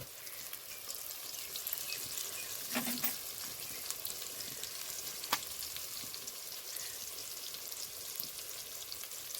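Spices for a Bengali rohu fish curry with taro fry in oil, a faint continuous sizzle with occasional soft clinks of stirring and no talk.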